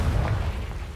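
A Confringo blasting spell detonates in Hogwarts Legacy with a deep, rumbling blast that holds steady, close and loud, over a single second.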